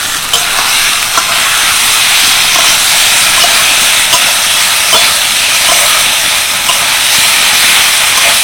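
Fried cauliflower florets tipped into a pan of hot spice mixture give off a loud, continuous sizzling hiss that stays strong and steady throughout, with no talking.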